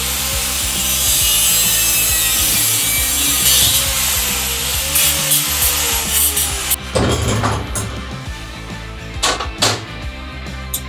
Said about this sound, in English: We'll put that in a vise and cut it off with our cutoff wheel on the angle grinder.